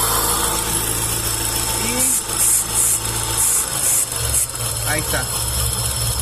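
A 2007 Geely CK 1.5L engine idles nearby with a steady hum and vibration while its intake is sprayed, with short bursts of spray hiss and someone speaking briefly over the running engine.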